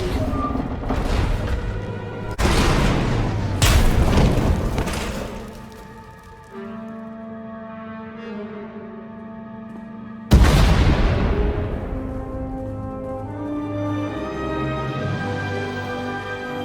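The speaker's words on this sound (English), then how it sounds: "We heard explosions. The tunnel collapsed." Deep, booming explosions go off in Star Wars: The Old Republic, several heavy blasts with long rumbling tails and synthetic tones ringing between them.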